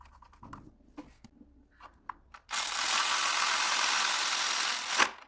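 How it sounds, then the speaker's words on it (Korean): Work on a Kia Forte engine bay while fitting the engine cover mounting bracket: a few quiet clicks and taps, then a loud, steady whir of a power tool running for about two and a half seconds before cutting off. "엔진 커버 고정 브라켓을 장착합니다."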